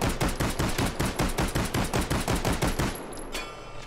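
Rapid pistol shots from the VR shooting game Hot Dogs, Horseshoes & Hand Grenades, a steady string of about twenty sharp cracks at a fast even rhythm, loud and close, then a short quieter tail.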